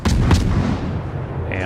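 Naval guns firing in the warship battle game World of Warships, a heavy booming blast with rumbling low-end roll, close and loud, dense continuous rumble afterward.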